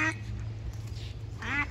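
Ducks on a farm pond quack in a brief scuffle over a female, with a harmonic call at the start and another near the end, close and fairly loud over a low steady background hum.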